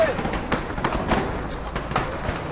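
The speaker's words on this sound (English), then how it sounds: "there's a series of shots ringing out now just outside the shopping centre" Several sharp distant gunshots ring out in an irregular series outside the Westgate shopping mall in Nairobi, echoing over a noisy outdoor background with a voice talking over them.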